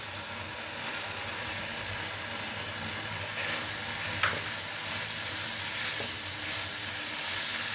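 Carrots fry with spices in a pan as a steady, even sizzle and hiss, with a few faint stirring scrapes and no talking.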